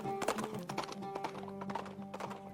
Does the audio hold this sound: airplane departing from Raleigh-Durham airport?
no